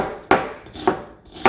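A knife chops raw onion into large pieces on a board, three crisp, evenly spaced strikes ringing out close and clear with quiet pauses between them.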